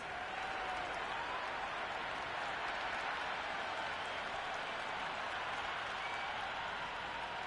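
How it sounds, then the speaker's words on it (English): A cricket stadium crowd applauds a boundary in a Legends match at Lord's, a steady wash of distant clapping that carries on without a break. "It's evident and ever so audible that the crowd is at near bursting point at today's play."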